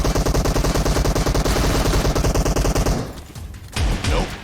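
Rapid automatic gunfire in the mobile battle royale game PUBG Mobile, a dense string of loud shots for about three seconds, then a pause and a short second burst.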